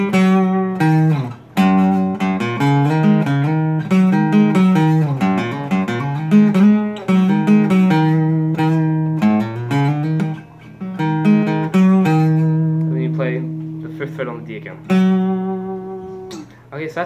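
Acoustic guitar solo, played slowly as a continuous run of picked single notes and short phrases, close and fairly loud, with sustained ringing tones near the end.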